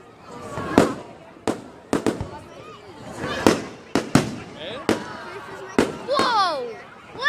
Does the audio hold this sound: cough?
no